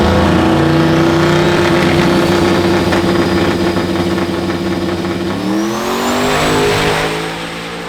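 A Dodge Demon 170 at a drag strip roars loud and close, its engine holding a deep sustained drone that climbs in pitch as it revs up, then fades slightly at the end, with no talking.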